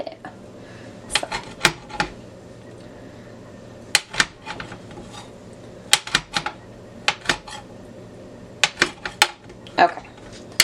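Bacon being sawed through with a cheap, dull kitchen knife, giving sharp irregular clicks and knocks of the blade against the board, spaced in uneven bursts over a quiet room hum.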